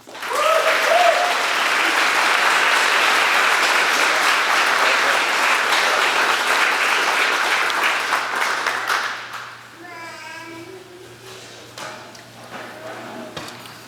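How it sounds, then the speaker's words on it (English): A hall of fame induction ceremony audience in a hall breaks into loud, sustained applause for about nine seconds, then fades as a voice speaks over the dying claps. "One more round of applause for Dan Meade."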